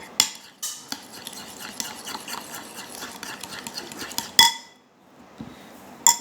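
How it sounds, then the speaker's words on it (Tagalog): A yogurt vegetable salad being stirred in a bowl, soft close mixing and rubbing with a few sharp clinks of utensil against the bowl, then a brief quiet gap. "Haluin lang natin ng mabuti guys kasi yung yogurt, nagbubuo siya pag hindi nahalo ng mabuti."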